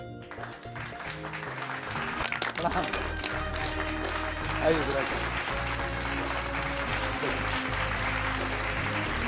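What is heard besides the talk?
studio audience applause welcoming a guest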